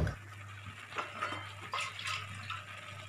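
Water is poured into dal in a metal pot over a low steady hum, with soft splashing and a few light clinks close by, quiet throughout.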